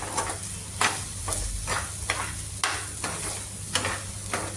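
Green peas sautéed in a pan, a steady close sizzle with regular spatula scrapes roughly every second, a low hum underneath and no talking.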